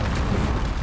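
A fire spell cast in Hogwarts Legacy, a short dense burst of flame with a booming, rumbling roar that holds steady for under a second with no pause.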